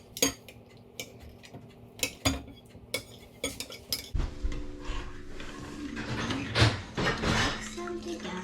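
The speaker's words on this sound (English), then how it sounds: "And then mix the sour cream." A spoon clinks and scrapes in a bowl as sour cream is stirred into chocolate cake batter, sharp taps early giving way to denser, softer mixing strokes near and fairly loud.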